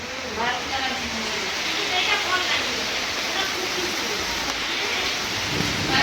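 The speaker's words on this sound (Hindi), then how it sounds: "बारिश कितनी तेज हो रही है" Heavy rain pours down steadily outside during a mehndi gathering in Delhi, a dense, constant hiss of falling water with muffled voices talking faintly underneath.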